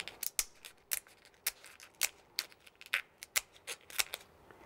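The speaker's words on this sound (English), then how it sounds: "Just get my scissors here" Kitchen scissors snip through a cooked crayfish (koura) shell, giving a rapid series of sharp, close crisp cuts and cracks in an otherwise quiet setting.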